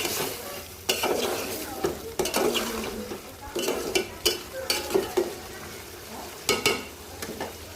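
Fish with bitter gourd and potato cooking uncovered in hot oil, a continuous sizzle broken by repeated sharp clinks and scrapes of a utensil against the pot, close and fairly loud, with no voices.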